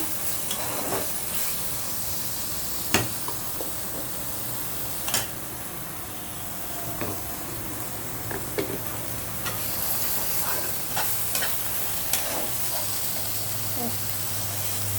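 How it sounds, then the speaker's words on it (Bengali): A ginger paste, turmeric, coriander, chili and cumin spice mix frying in a pan for a hilsa dish, with a continuous sizzle and scattered clicks and scrapes of stirring throughout. "মশলাটা একটু ভাজা করে নিচ্ছি"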